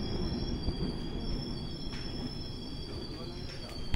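Ruposhi Bangla Express passenger train running near Medinipur, a steady broadband rumble of wheels and carriage noise with faint high whine, continuous and close throughout.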